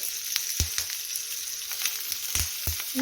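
Green chillies roast in oil in a pan, a steady low sizzle with several crisp popping ticks and light stirring knocks, close by and unaccompanied by talk.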